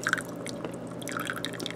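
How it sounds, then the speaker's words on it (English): Hot tea is poured from above into an infuser sitting on sugar, giving a steady close splashing trickle with a few drips throughout. "So we pour the tea right into that infuser."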